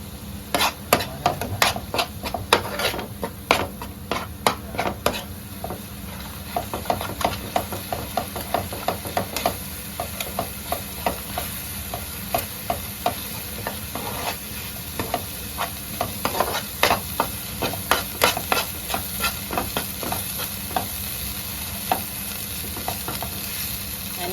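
Whole garam masala sizzles in hot oil in a pan while being sautéed, with a constant frying hiss and frequent sharp scrapes and knocks of a spatula against the pan in an uneven rhythm, close up.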